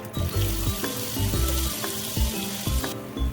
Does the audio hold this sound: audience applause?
no